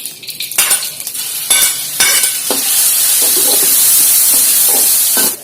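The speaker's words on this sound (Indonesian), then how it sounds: "Tumis bumbu halus." Ground spice paste sautéing in a hot pan: a loud steady sizzle and hiss building up, broken by scraping stirs, with no talking.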